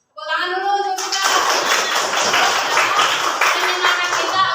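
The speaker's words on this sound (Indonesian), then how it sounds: "Tepuk tangan dulu untuk kita" A classroom of students claps together in loud, sustained applause that starts suddenly and continues steadily, with a teacher's voice heard briefly at the start.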